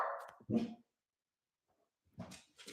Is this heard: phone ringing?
no